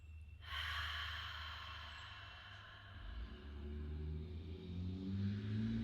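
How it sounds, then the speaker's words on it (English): A deep yoga breath, a long audible inhale followed by an open-mouth exhale, close and steady, with no talk over it. "we're going to do an inhale and then an open mouth exhale"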